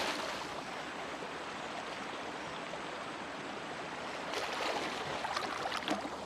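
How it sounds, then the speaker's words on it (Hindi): Wildebeest thrashing in deep river water during a crocodile attack, a steady broadband rush of churning, splashing water that grows louder and more violent toward the end, with no voices. "पानी में हो रही ये छटपटाहट इनके लिए दावत का साफ संकेत है।"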